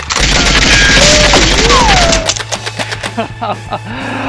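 Nerf Rukkus blaster slam-firing Accustrike slugs in rapid bursts, a loud sustained motorized whir with rattling shots for about two seconds, then quieter scattered clacks and thumps.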